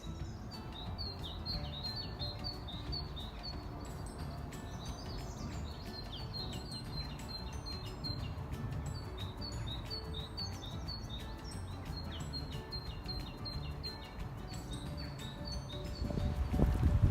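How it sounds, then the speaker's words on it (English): Many small birds chirp and sing through a quiet wood in a steady scatter of high, faint calls, over low background rumble that swells briefly near the end. "there's a lot of little birds in this part of the wood"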